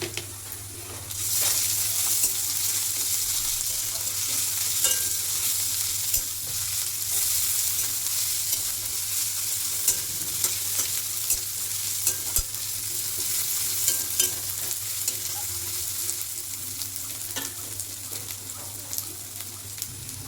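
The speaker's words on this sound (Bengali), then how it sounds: "রসুন পেঁয়াজটা ভাজা হয়ে গেছে" Chopped onions with garlic paste fry in oil in a pan, a close, loud, steady sizzle lasting throughout, punctuated by light crackles and small scraping sounds of stirring, with no voices.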